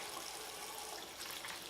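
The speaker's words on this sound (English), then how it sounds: "with the water running, so I have a nice suction" Tap water runs steadily into a bathroom sink, a close, continuous hiss and splatter with no pauses.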